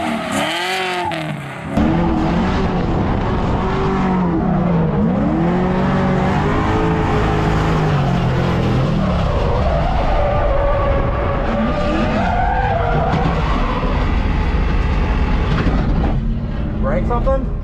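A BMW E36's engine runs with wavering, rising and falling tones and some tire-like squealing for about seventeen seconds, then cuts off near the end; voices talk over it throughout.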